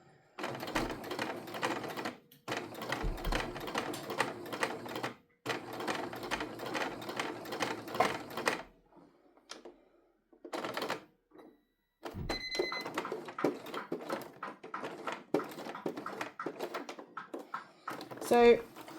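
A sewing machine stitches thick layers of a tote bag's handles in several fast, rattling bursts with short pauses between them, close by. A person talks during the gaps.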